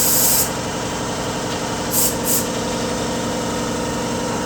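Brake cleaner sprayed to flush out a line on a VW Beetle engine: a loud, continuous hissing spray close up over a low engine rumble, with two brief extra bursts partway through.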